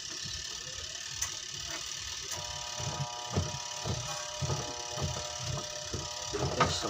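A faulty washing machine motor hums loudly and steadily with a mechanical whir, accompanied by regular low thumps and faint clicking as it runs.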